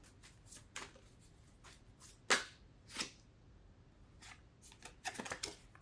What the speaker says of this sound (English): I'm going to shuffle some cards.